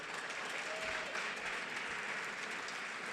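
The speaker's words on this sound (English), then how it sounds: "They're clapping." A full room at a justice gala claps steadily, a soft, distant wash of applause with a faint murmur beneath it.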